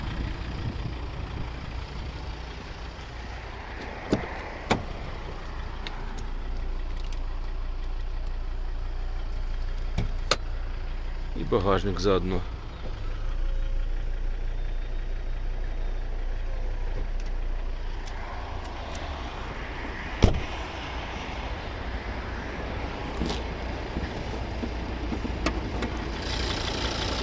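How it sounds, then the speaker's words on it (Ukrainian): A 2011 Volvo V70 2.0 D3 five-cylinder diesel idles with a steady low rumble, joined by a few clicks and thumps around the car while someone briefly speaks. "Тихо працює двигун"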